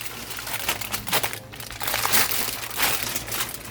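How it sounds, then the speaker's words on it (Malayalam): Aluminium foil crumpled and folded around soaked wood chips for smoking beef without a smoker box, a steady close crinkling and crackling that swells and eases over a few seconds, with no talk. "ഒരു ഫോയിൽ എടുത്തിട്ട് അതിലോട്ട് ഈ ചിപ്സ്, കുതിർത്ത ചിപ്സ് വാരിയിട്ടിട്ട് അത് പൊതിഞ്ഞ്"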